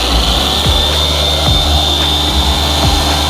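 A dual action polisher runs on car paint at low speed, giving a steady, even machine whine with a continuous hum underneath and no pauses.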